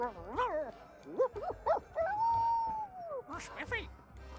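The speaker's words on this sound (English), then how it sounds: "the dog says his own name" A dog in the pirate video game Sea of Thieves lets out a run of yips, whimpering barks and one long, drawn-out howling note, rising and falling in pitch like a voice.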